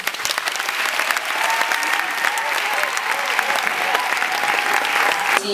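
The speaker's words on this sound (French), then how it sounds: "on continue d'applaudir l'initiatrice Christelle Voira" Sustained applause from a large audience at a women's parliament event, many hands clapping in a thick, even wash, with a voice speaking over it partway through.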